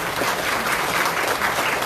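A crowd applauds at a Liberty Korea Party ceremony installing a provincial party chairman, a dense, steady wash of many hands clapping close and loud throughout, with no talk over it.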